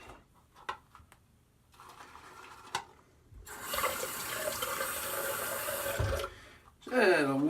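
A tap runs at a bathroom sink during a wet shave, a steady close splash of water in the middle of the clip, with faint clicks before it and a squeaky rising sound at the end.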